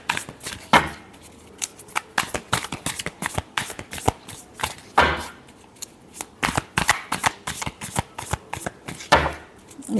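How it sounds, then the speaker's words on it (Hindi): Tarot cards shuffled by hand in a series of quick riffling bursts, close and fairly loud, with short pauses between rounds and no voices. "Last shuffle."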